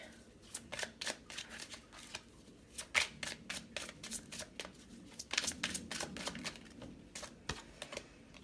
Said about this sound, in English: Get a few cards from this deck.